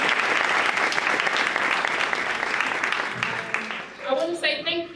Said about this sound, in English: So can we give ourselves a round of applause?